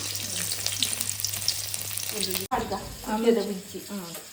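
Garlic tempering sizzles and crackles in hot oil, a steady frying hiss that breaks off abruptly, followed by more sizzling mixed with clinks.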